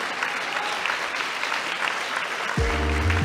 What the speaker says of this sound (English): if you clap for him, I'll be really happy